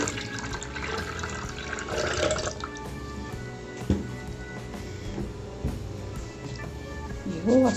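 Warm water is poured into a blender jar already holding eggs and oil for a chocolate cake batter, giving a steady close splashing trickle with small clinks throughout.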